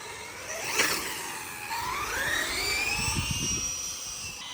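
A Traxxas UDR RC truck races along a street at full throttle, its electric motor whining and climbing in pitch as it speeds up, then passing with a faint rumble below.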